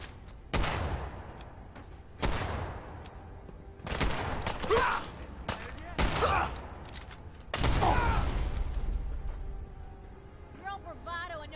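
Bursts of gunfire in the video game Fallout 4, several sharp volleys spaced a second or two apart with rolling echoes, while a player speaks between shots.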